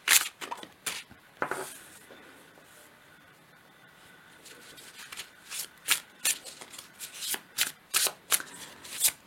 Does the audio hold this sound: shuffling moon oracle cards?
yes